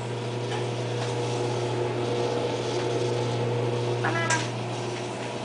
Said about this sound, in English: we always put it in the microwave to melt the chocolate